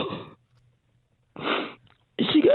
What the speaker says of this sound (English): She got hay fever, and she can't stop sneezing.